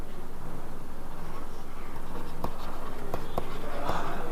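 Steady scratchy strokes of writing on a board during a reasoning class, continuous with a few sharper taps later, close and fairly loud.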